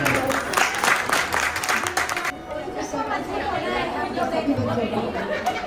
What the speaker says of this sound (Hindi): तालियां भाभी के लिए